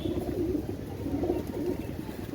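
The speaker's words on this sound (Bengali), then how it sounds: "চমৎকার কবুতর" Oman Teddy and Golden pigeons coo softly and repeatedly in low, rolling phrases close by, over a faint background murmur.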